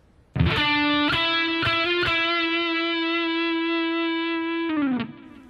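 A bass guitar phrase played through effects, a held distorted, chorus-tinged note with a few plucked re-attacks that sustains for several seconds and then slides down before stopping, with no talk.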